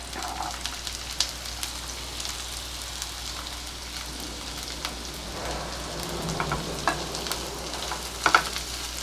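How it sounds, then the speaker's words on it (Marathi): Chopped onion with green chili frying in a pan for a spicy Maharashtrian val birde, a soft steady sizzle with occasional light scrapes and clinks of stirring, no talking. "कांदा थोडासा आपल्याला लालसर करून घ्यायचा"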